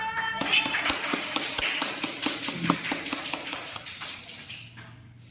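A classroom of students claps together in a quick, steady patter of many hands, fairly close, tapering off toward the end.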